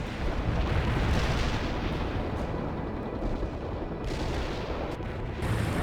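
Artillery fire from an artillery battery in a World in Conflict cutscene: a dense, continuous roar of rumbling blasts and gunfire filling the whole stretch, loud and sustained without clear gaps.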